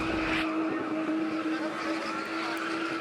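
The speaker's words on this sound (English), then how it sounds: "This is spinning, a turbocharged sport where drivers spin cars in quick, tight circles" Cars spin in tight circles in a South African spinning motorsport event near Johannesburg, engines droning loud and steady with tires squealing and skidding continuously.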